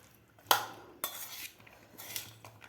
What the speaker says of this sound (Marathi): आता आपल्याला हे व्यवस्थित मिक्स करायचं आहे.